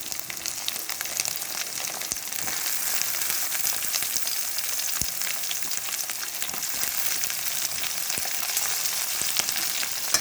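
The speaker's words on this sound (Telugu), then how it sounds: "ములక్కాయలు ఫ్రై అవుతున్నాయి." Drumstick pieces and chopped onions fry in hot oil for a tomato curry, a steady dense sizzle with fine crackling pops that carries on evenly throughout with no talking.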